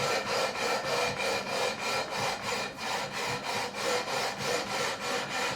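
Sandpaper at 240 grit is rubbed along the frets of a Jackson-style partscaster neck to level them, making a close, steady rasp in regular back-and-forth strokes about twice a second.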